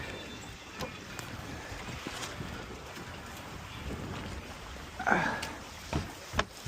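Wind rushes steadily across a Haines Hunter Tramp trimaran under sail while a top-down furler is tested, a continuous broadband roar with a few soft knocks and thumps from the rigging near the end.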